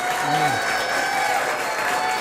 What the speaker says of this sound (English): So I want you to be wildly enthusiastic with your applause and cheering.